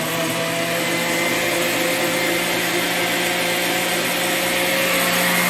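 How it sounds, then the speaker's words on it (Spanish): A kitchen blender grinds tomatoes in a continuous, loud, steady whir with a dense motor hum that holds evenly throughout, with no talking. "Miren, ya se está moliendo el tomate."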